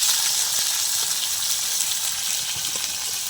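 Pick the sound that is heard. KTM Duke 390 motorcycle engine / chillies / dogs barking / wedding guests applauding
chillies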